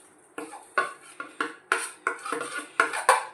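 Spices being stirred into homemade mango pickle, a run of about eight close scraping, clinking strokes against a pot or bowl in an irregular rhythm, with no talking.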